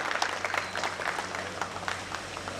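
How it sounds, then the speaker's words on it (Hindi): A crowd claps at an outdoor political gathering in Arjun Nagar, New Delhi, greeting a newly elected MP; steady scattered clapping runs throughout at moderate distance, with a low steady hum underneath. "जोरदार तालियां।"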